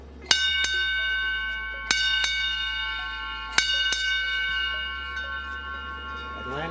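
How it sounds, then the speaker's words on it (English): A ship's bell aboard the International Space Station's Harmony module rings out in clear strikes, grouped in pairs, each tone ringing on and fading between strokes, with no talking. "with flight engineer Ron Guerin ringing the station's bell in the Harmony module."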